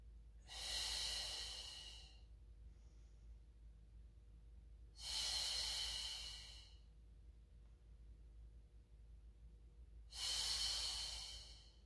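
Three long, breathy exhales during a Pilates mat class, each a few seconds of airy rushing spaced evenly apart, close to the microphone with quiet pauses between.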